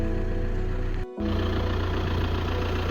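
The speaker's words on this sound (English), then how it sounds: "the engine sounds absolutely sweet as a nut" An Audi Q3 2.0 TDI diesel engine idles close by, a low even rumble with a smooth rhythm and a brief dropout partway through.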